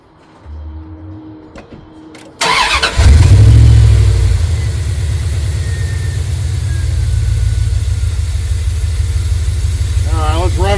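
A fully warmed-up truck engine cranks after a few quiet clicks and catches, settling into a loud, steady idle, with brief talk before the start and a faint squeal near the end.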